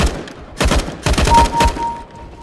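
Gunfire in Counter-Strike: Global Offensive on PC, several loud bursts of close shots cracking in quick succession with short gaps, a thin steady tone running beneath the later shots.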